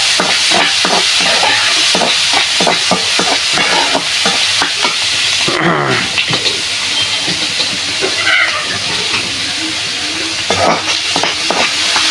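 Puti fish frying in a pan for Mymensingh-style chepa, a loud continuous sizzle and hiss with a quick run of rhythmic stirring scrapes early on, then steadier spitting oil with occasional clatter, close to the pan.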